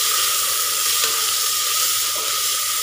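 Ginger garlic paste sizzles loudly in a hot pan as it is stirred, a steady close frying hiss with faint scraping underneath.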